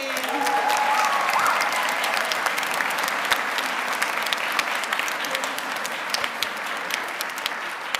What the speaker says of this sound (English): Round of applause for the third grade.